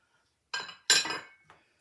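A whisk clinks twice against a bowl of dry baking soda, baking powder, salt, nutmeg, cinnamon and ginger for a sweet potato cake. The two quick, close scraping taps come with a short pause between them.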